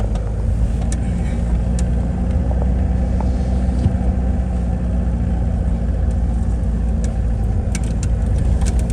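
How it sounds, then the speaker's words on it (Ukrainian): A car engine rumbles steadily and close by as the vehicle pulls away, a low continuous drone with no voices over it. "Зараз ми будемо виїжджати, зафіксуємо номера цього автомобіля."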